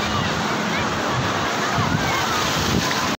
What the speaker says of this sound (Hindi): मेरे पीछे देखें कितनी सारी वेव्स आ रही हैं